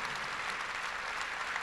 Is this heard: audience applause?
yes